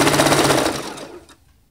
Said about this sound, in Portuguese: Pezinho de máquina e vamos lá costurar.